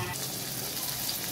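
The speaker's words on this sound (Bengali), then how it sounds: "প্রথমে তেলে পেঁয়াজ আর কাঁচামরিচ দিয়ে দিলাম" Onions and green chillies sizzling in hot oil in a pan, a steady close crackling hiss throughout.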